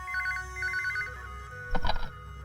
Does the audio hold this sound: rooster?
no